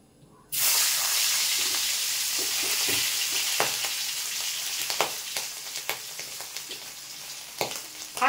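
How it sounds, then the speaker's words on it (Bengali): Fish pieces hit hot oil in a wok with a sudden loud sizzle, then a steady hissing fry with scattered sharp pops and spatters, close and with no voices. "আমি মাছটা এক একটা করে ভেজে নিই"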